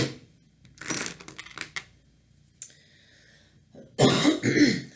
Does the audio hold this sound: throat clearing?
yes